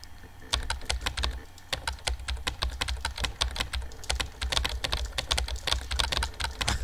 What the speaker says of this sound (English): I'm just like mashing on the keyboard.